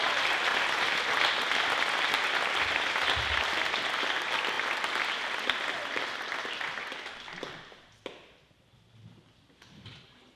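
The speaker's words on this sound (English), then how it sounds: "I'd like to give her a round of applause for all the hard work she's done." An audience at a high school awards night claps in sustained, dense applause, which fades out after several seconds into a quiet room with a few stray sounds.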